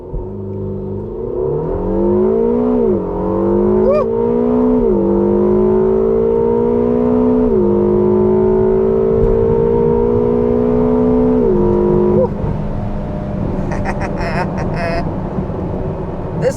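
A Ferrari California T launches hard, its engine wailing upward through several gears with clear dips at each shift, loud and close from inside the cabin.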